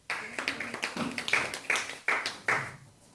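A church congregation claps in a short burst of sharp, uneven hand claps at a sermon seminar, a handful of distinct slaps spaced about a third of a second apart, fairly close.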